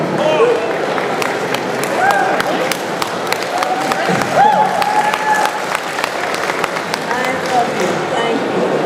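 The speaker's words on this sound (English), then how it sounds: "just people whooping and cheering" A convention audience at a Comic Con Brussels Q&A with Nichelle Nichols claps loudly and continuously, with scattered whoops and cheers rising over the dense applause throughout.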